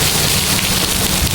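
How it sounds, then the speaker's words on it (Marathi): Heavy monsoon rain pours down in a dense, steady hiss with no break, loud and close throughout. "फुल पाऊस आहे"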